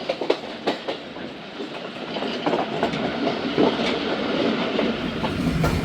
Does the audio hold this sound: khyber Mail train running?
yes